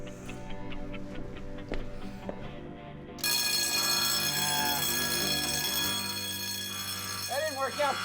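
A thermal detector alarm bursts into a loud continuous ringing tone partway through, sustained under narration, after a stretch of softer ticking and background sound.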